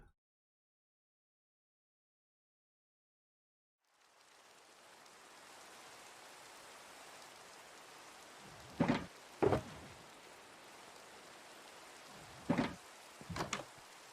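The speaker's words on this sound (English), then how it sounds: "Rain." Steady rain begins after a few seconds of silence in a video game, a constant even hiss with a few brief louder thuds or clunks breaking through near the end.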